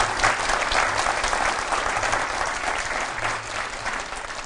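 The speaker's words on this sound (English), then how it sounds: "let's give them both a round of applause" Steady audience applause at a university leadership talk, a dense wash of many hands clapping at a constant, loud level from start to finish with no voices on top.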